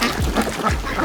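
Ducks on a Texas farm with a pond quack in a few short, rough calls close by, with steady background noise behind them.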